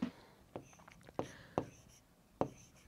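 A fraction is written out by hand during a class 3 maths lesson: crisp, close scratching strokes recur at an uneven pace, with quiet pauses between them.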